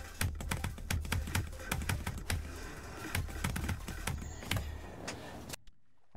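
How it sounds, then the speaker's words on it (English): Rapid computer keyboard tapping during a Geometry Dash demon level, with dense, irregular clicks close to the mic that run steadily for about five seconds and then stop abruptly. "I literally tapped my keyboard"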